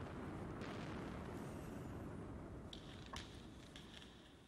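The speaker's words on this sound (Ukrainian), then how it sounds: "Демонтували споруди за допомогою контрольованого вибуху." Controlled explosion demolishing power station buildings, heard as a loud, sustained broadband rumble that slowly fades, with a few sharp cracks and debris sounds partway through.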